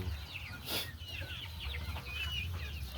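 Chickens cluck softly and irregularly inside a coop, a steady low murmur of several birds at moderate distance with no voices over them.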